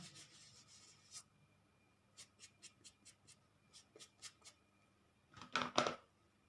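Ink is rubbed onto a homemade DIY stamp in a quiet room, a series of short, soft scratchy strokes in a loose rhythm, ending with a brief louder rubbing burst; no one speaks.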